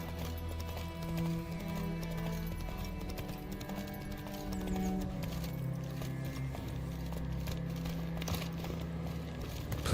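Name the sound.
horse Roach galloping in video game The Witcher 3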